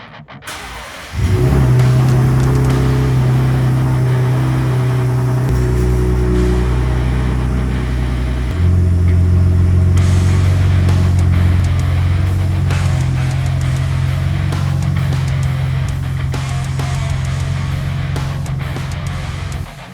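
A Ford Raptor pickup truck engine starts up loudly close by and idles with a deep rumble, then revs and shifts into a steady, heavier drone as it drives off.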